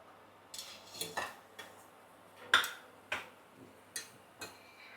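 Fried banana cake balls set down one by one on a plate, making about seven sharp, close clinks and taps spaced roughly half a second apart over a quiet background.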